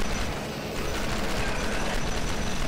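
Turrets blaze away inside a crater in the sci-fi video game Starforge, a dense, loud, unbroken barrage of rapid gunfire with no pause.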